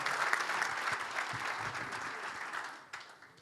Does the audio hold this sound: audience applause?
yes